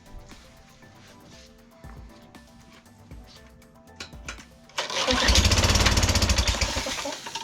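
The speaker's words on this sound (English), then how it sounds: "we got the pressure washer, so it's gonna get a little loud" A loud, steady high-pressure hiss and engine drone from a pressure washer cleaning a Pentair CCP240 pool filter starts suddenly partway through, following a stretch of quieter clattering and ticking background noise.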